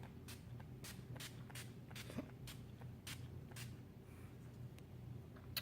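Quick, soft hissing bursts of makeup setting spray mist repeat in an uneven rhythm, close by and fairly quiet.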